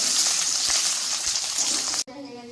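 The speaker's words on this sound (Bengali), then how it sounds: "এভাবে সব সবজিগুলো এক এক করে ভেজে নেব" Carrot and other vegetables fry in hot oil, a loud, dense sizzle close by that stops abruptly near the end, leaving quieter room tone.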